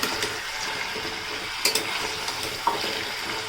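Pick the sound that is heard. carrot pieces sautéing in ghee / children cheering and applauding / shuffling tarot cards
carrot pieces sautéing in ghee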